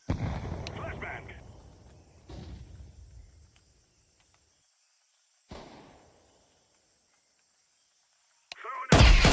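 Explosions from a video game firefight: a heavy blast fading into rumble, then two further sharp bangs separated by quiet gaps, and a final loud burst at the end.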